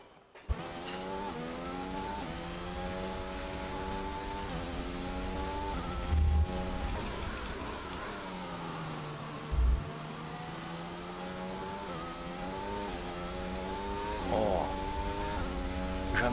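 A high-pitched Formula 1 car engine in the video game F1 2021 whines continuously, pitch rising and falling with shifts and acceleration, with a couple of brief thumps along the way.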